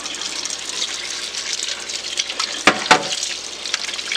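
Water running steadily from a tap, filling a plastic sink or basin so it swirls to flush out debris, with a continuous hiss and two brief louder splashes near the end.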